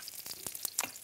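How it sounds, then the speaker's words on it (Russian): Pressed, squeezed-out eggplant frying in a pan for Greek-Cypriot moussaka gives a soft, quiet sizzle with a few brief crackles and spits, heard close and without voices. "А вот посмотрите, как шикарно жарятся отжатые баклажаны."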